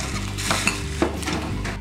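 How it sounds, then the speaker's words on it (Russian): Cognac set alight in a pan of vegetables while making a chicken liver pâté, giving a steady soft sizzle and crackle with a couple of brief clinks of utensils, close and moderate in level, no talking. "Добавляю коньяка и поджигаю."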